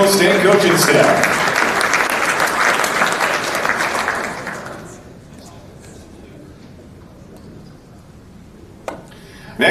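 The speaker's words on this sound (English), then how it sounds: "Let's round of applause for the Angelo State coaching staff." A banquet audience at a conference baseball championship dinner applauds the coaching staff, loud and dense for about five seconds before fading to scattered claps and quiet room noise.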